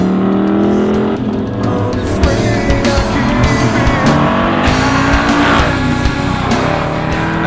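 A loud 2013 Ford Mustang Boss 302 V8 engine revs and accelerates close by, its roar rising and shifting through gears with a brief tire squeal.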